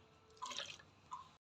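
A single spoonful of water poured onto soaked split fava beans and chickpeas in a kitchen, giving two short, faint drips and splashes close by with no talking.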